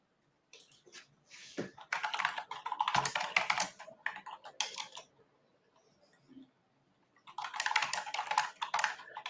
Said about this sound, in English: Can you hear my keys when I'm typing?